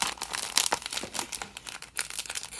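Crinkling plastic and brief tearing sounds, close and fairly quiet, in short irregular bursts as packaging is pulled open.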